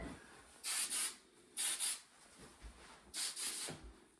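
Three pairs of short, bright aerosol hair spray bursts, each a quick double hiss, separated by quiet pauses.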